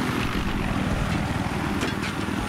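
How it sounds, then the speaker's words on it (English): An enemy helicopter in the video game Battlefield 3 gives a steady, loud drone of engine and rotor with a low, rapid pulsing throughout and no pauses. "Oh, we have an unfriendly helicopter on our 9 o'clock."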